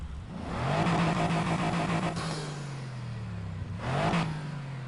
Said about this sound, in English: this 4-liter V8, the European V8, or at least the one that's from Aston Martin